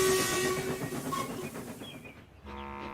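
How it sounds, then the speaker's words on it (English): A steam engine's whistle shrieks loudly over rumbling train noise, a shrill tone at the start fading into chugging, then another steady whistle blast near the end. "it was swallowed up by the sound of Murdoch's whistle."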